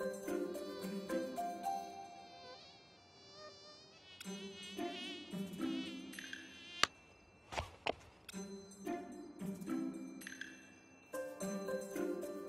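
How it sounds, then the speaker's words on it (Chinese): A mosquito whines outdoors in thin, wavering buzzes that come and go over several seconds, quiet and close, with no talk and a few sharp knocks in between. "外面有蚊子咬我"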